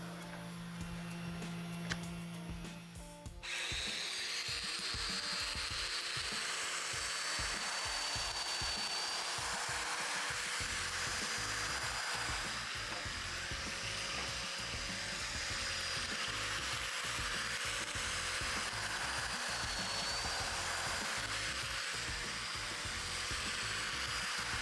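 A power tool cutting mortises in wood for an outdoor table, a loud, steady whirring motor drone running continuously nearby, with a brief quieter start before it spins up.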